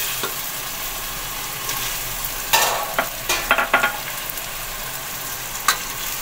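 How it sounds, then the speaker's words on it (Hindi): Tomatoes drop into ginger garlic paste frying in a pan for baingan bharta, giving a constant loud sizzle with a few sharper crackles and stirring scrapes. "अब मैं डालूंगी इसमें टमाटर।"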